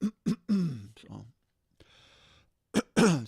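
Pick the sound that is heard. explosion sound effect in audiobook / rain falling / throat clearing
throat clearing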